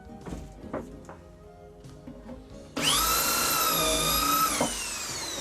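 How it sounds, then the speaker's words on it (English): A power drill bores a hole through a dowelling jig into timber, starting with a sudden loud, high whine that holds steady for about two seconds, then eases into a lower run. Faint knocks and handling sounds come before it. "Drill one hole."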